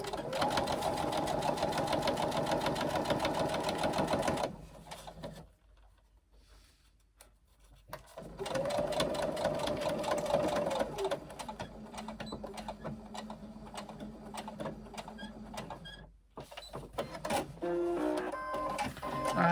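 Sewing machine stitching a pocket seam, loud rapid mechanical whirring in several runs broken by short pauses, close and without voices.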